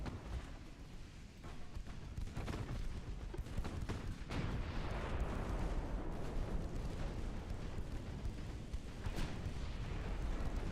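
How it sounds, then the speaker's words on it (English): Deep rumbling explosions and booming gunfire from a naval video game as a heavy cruiser sinks, a dense low roar with scattered sharper blasts throughout, fairly even in loudness. "Heavy cruiser goes down."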